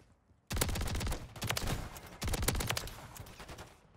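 Two rapid bursts of automatic gunfire from a Haymaker build in Call of Duty MW3, loud and close, each lasting over a second with a brief pause between them, starting sharply out of near silence.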